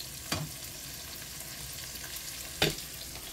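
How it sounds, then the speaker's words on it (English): Tomatoes blistering in a frying pan over medium heat give a steady close sizzle, broken twice by short sharp knocks of a utensil against the pan. "I just want the tomatoes to blister here just a little bit"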